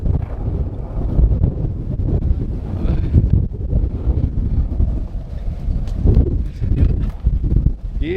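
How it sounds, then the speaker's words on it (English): Strong, steady wind buffets the microphone outdoors during a skateboarding session in high wind, a loud continuous rumbling roar with gusty surges and no pauses. "Bro, the wind, he just pushed and the wind stopped him."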